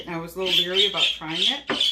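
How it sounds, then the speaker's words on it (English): Pet birds squawk in the background, their shrill calls sitting high above someone talking steadily up front. "I apologize for my birds in the background"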